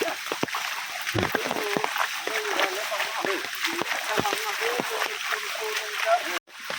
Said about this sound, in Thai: นี่เส้นทางในป่ายามฝนตกก็เป็นแบบนี้นะ มีน้ำไหลแบบนี้นะฮะ